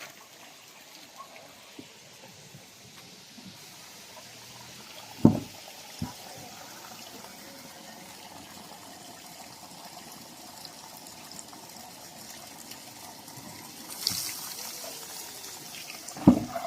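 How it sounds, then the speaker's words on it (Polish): Quiet trickling water runs steadily out through an outlet in a mountain settlement in northern Thailand, punctuated by a few soft knocks and splashes, with no voices. "tak właśnie woda uchodzi"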